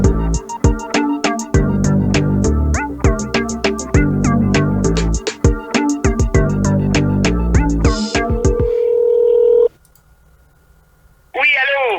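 A phone number is keyed in on a telephone: a rapid run of short dial tones with music or a busy background underneath, then a steady tone and a brief pause before a ring-like burst at the end.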